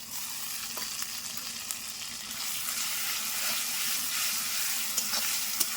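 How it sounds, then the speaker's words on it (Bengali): Chicken sautés with a ground paste of ginger, garlic, cumin, coriander, fennel, green and dried chilies and onion, giving a constant soft sizzle with occasional scraping stirs, fairly quiet and steady. "এইটা এবার সব কিছু ভালো করে কষিয়ে নিতে হবে"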